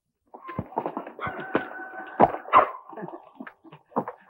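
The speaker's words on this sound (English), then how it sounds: "and Roy's wonder dog, Bullet." A dog barks in an irregular string of sharp yaps and whines in a 1950s Roy Rogers western, fairly close with old broadcast hiss, some calls stretching into a longer howl-like cry.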